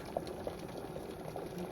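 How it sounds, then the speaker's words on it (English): Water boiling in a pot over off-grid solar-powered cooking, a steady low bubbling simmer with scattered small pops, fairly quiet and continuous with no talking. "boil some water"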